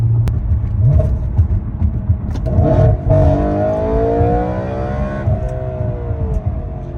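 An Audi RS5's high-revving 4.2 liter V8 with stock exhaust revs up loudly, its pitch climbing steadily through the gears, a close, throaty roar that holds and then settles.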